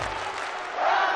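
A wrestling arena crowd in the WWE 2K22 video game roars as Ronda Rousey makes her entrance, a dense steady wash of cheering that swells louder near the end of the brief moment.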